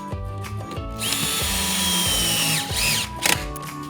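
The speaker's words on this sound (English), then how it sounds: "Install your set screw, drill," A power drill whirs up to a steady whine for a couple of seconds while driving a set screw into a recliner handle, then slows and stops, followed by a few short clicks, close by.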